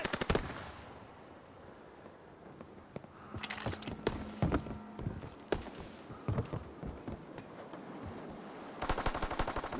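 Machine gun fire from a strafing run in a video game, rapid bursts and scattered shots over a busy battlefield din, loudest in the middle and at the end.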